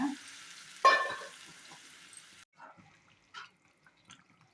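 Hot water poured into wheat rava upma in a hot pan gives a sudden loud sizzling hiss that tapers off over a couple of seconds, followed by quiet scattered clinks and soft stirring sounds.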